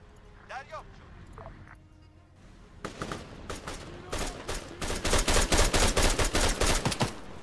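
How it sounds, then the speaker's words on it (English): Arma 3 gunfire aimed at a vehicle wheel, with bursts of loud close shots that start sparse and build into a rapid, steady volley, following quieter ambient game sounds with a voice speaking. "Why are you shooting out the wheel?"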